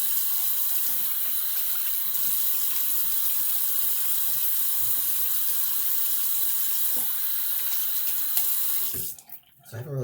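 Tap water runs steadily into a sink for several seconds, a constant close rush that cuts off near the end.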